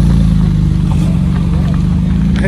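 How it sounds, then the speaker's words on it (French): A Porsche 911 GT2 sports car at a cars and coffee meet, its engine giving a loud, steady, deep rumble close by without letting up. "Elle est monstrueuse cette Porsche. GT2."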